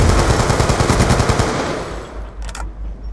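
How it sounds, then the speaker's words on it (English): A light machine gun firing in a video game: a loud, rapid, steady burst of close shots that fades into a rumbling tail. "Oh, I hate LMGs."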